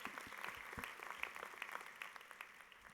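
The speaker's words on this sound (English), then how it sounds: "Give yourselves a round of applause." An audience at a university honors convocation applauds, the clapping soft and somewhat distant, a dense patter of many hands sustained for about three seconds.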